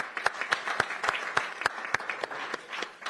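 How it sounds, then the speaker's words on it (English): A small group claps at a Pierce County Council meeting, giving quiet applause made of distinct, evenly spaced claps in a slow rhythm from start to finish. "Let's give them a round of applause."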